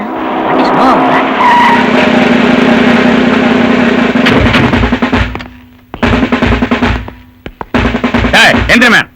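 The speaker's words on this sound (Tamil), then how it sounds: "ஏய், பெரிய வண்டியா வருது" A large vehicle approaches with a loud, roaring engine and breaks into a long, screeching tire skid. Harsher squeals and bursts of engine noise follow near the end, all close and loud.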